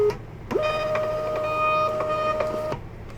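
An ORGBRO thermal shipping label printer prints a label with a short motor whine of about two seconds, marked by a few soft clicks at the start and end, close and fairly quiet.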